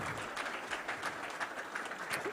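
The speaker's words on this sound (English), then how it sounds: "Please applause for him," Audience applause at a tournament rings out for about two seconds, a steady wash of many hands clapping at moderate distance with no voices over it.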